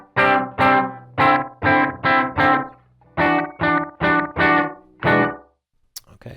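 A guitar played through a Gokko Dripping GK-22 analog delay pedal, short tightly spaced repeats smearing each strummed chord into a reverb-like wash, in rhythmic bursts with brief gaps.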